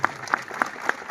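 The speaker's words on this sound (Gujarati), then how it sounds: "આપણે બધા તાળીઓના ગળગળાટથી વધાવીએ." Brief applause from an audience welcoming a blessing for Muktanand Bapu at a gathering in Rajkot, heard as a few sharp, evenly spaced claps at moderate loudness over a faint murmur.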